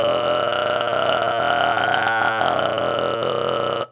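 A voice makes a rattly false cord scream using throat tension, a continuous harsh, gritty growl that stays loud and sustained and then cuts off abruptly.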